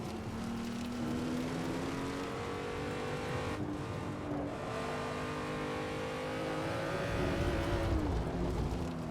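A BMW M235i engine in the Assetto Corsa racing game on the Nordschleife, a steady loud drone that rises and drops through gear changes and revs for the whole stretch, with no talk.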